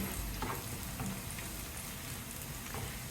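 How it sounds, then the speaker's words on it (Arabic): Sliced onion fries in a mix of vegetable and olive oil, giving a steady, soft crackling sizzle with faint stirring clicks. "صافي كنحاولوا نحمروها حتى كتاخذ لينا هاد اللون الذهبي."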